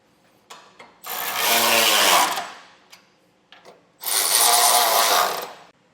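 Bolts on a Jeep Cherokee base plate being run in with a power tool, two long whirring bursts of a few seconds each, separated by small clicks and clanks of parts and tools.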